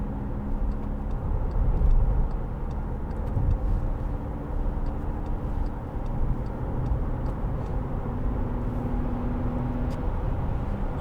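Skoda Yeti 2.0 TDI diesel from 2017 cruising in sixth gear at 70 mph and about 2,000 rpm, a steady low engine drone mixed with road and wind noise inside the cabin, constant throughout with no talk.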